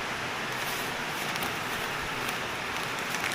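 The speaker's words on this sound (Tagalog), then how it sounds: "Medyo malakas po ang ulan" Steady, dense rainfall hisses continuously at night by the sea, a broad wash of heavy rain with faint scattered drops and no voices.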